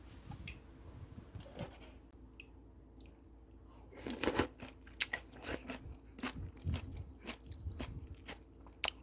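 Someone bites into a crunchy salted cucumber stored to stay crisp, then chews it up close with a run of sharp, crisp crunches and clicks, starting sparse and growing busier, loud against a quiet background with no talk.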